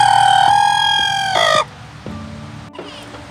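Backyard chickens kept through winter weather, a rooster's loud drawn-out crow followed by softer clucks and short calls from the hens close by.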